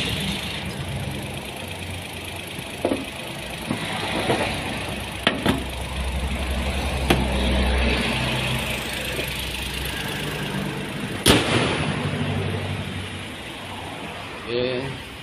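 Vehicle engine idling while warming up, a steady low rumble running throughout with a few clicks and knocks, with people talking over it.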